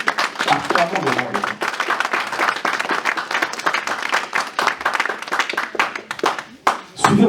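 A church congregation claps in a fast, steady rhythm during a Sunday consecration service, and voices sing or call out under the applause. The clapping is loud and close, then breaks off briefly near the end.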